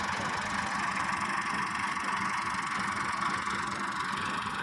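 A tractor hauling a fully loaded trolley runs with a steady, faint drone that stays constant throughout, heard from a distance with no voices.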